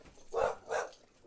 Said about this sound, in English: There's your barking.